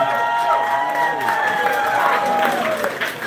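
Audience applause at a polka concert, with steady clapping and crowd noise through the whole stretch and sustained tones from the band ringing underneath.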